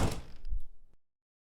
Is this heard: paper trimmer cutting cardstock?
no